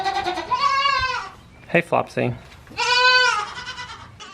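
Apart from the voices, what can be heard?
goats bleating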